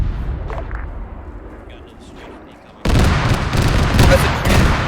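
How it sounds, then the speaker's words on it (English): Burst of rapid aircraft strafing gunfire in a military video game, erupting loudly after a quieter stretch of ambient battle noise and continuing as dense, sustained firing. "You got another strafing running coming."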